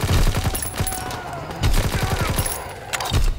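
Gunfire from a gun in a video game crackles in loud, rapid bursts, with a few short volleys separated by brief pauses.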